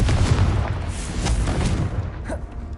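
Repeated booming blasts from the Confringo spell in Hogwarts Legacy, dense and loud, one burst rolling into the next across the whole stretch before easing slightly at the end.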